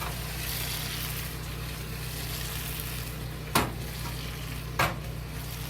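Fish sizzles steadily in a pan after cooking wine is added, a constant close frying hiss under a low hum, broken by two sharp utensil clacks near the end, with no speech.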